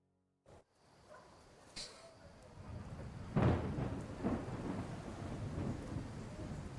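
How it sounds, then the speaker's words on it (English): Thunderstorm in Kingdom Come: Deliverance II, with steady rain hiss and low rumbling thunder that swells into a loud, close crack midway and keeps rolling, with no voices over it. "God, that storm got loud all of a sudden."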